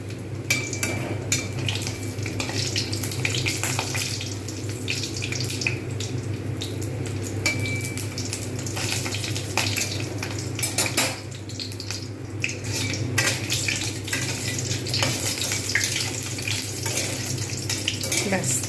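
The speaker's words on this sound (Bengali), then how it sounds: "কড়াতে সাদা তেল দিয়ে দিয়েছি তেল গরম হয়ে গেছে বড়ি দিয়ে দেবো বড়িগুলো আমি কিন্তু লাল করে সুন্দরভাবে এটাকে ভেজে নেবো" Bori lentil dumplings fry in hot white oil in a wok, a dense, continuous sizzle and crackle with occasional clinks of a utensil against the pan, close and steady throughout.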